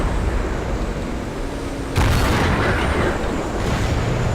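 Tank shell bouncing off a Pershing tank in a video game, a sudden loud boom and impact about halfway through over continuous rumbling battle noise.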